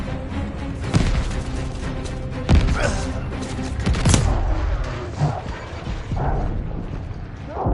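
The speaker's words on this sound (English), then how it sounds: "Watch that tracer fire!" Tracer gunfire in Call of Duty Vanguard on PS5, irregular sharp cracks and impacts mixed with clanking mechanical noise and rumbling battle ambience, moderately loud throughout.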